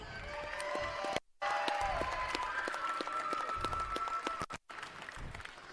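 Crowd applause and cheering at a USA BMX national event's men's collegiate awards, steady clapping across the stretch with brief cutouts, some distant voices mixed in.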